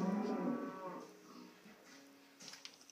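A single Minecraft cow lets out a drawn-out moo, loud at first and fading over about a second, followed by quiet with a few faint clicks.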